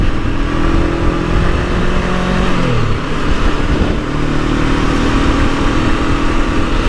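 A Honda NX500 motorcycle rides along a favourite road under gentle throttle, its engine drone rising and falling in pitch as it shifts through gears, steady and close with wind rush behind.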